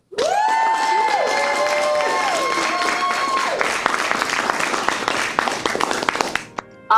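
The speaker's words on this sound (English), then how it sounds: "audience, please help me give a round of applause for our volunteer, Jan Aslin of Mesquite." An audience at a volunteer award show claps and cheers in a sustained burst of applause, with whoops and shouts over the clapping before it fades out.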